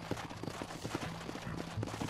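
A horse's hooves clip-clop in Red Dead Redemption, a quiet uneven trotting rhythm of soft thuds repeating over a dull background.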